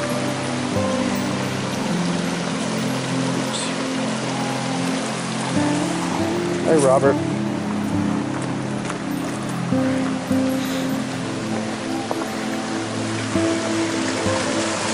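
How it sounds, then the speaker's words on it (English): A creek flows steadily on a nature walk, a continuous close rushing and babbling of water heard throughout, with a brief spoken greeting over it and footsteps near a small bridge. "here's the creek."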